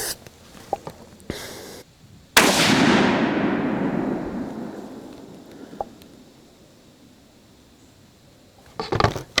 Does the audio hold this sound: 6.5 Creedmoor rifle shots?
yes